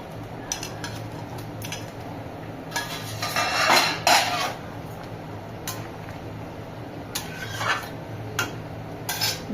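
Fried lentil fritters drop into a pan of boiled raw mango, giving scattered metallic clinks and scrapes of a spoon against the cookware, close and fairly loud, with no talk.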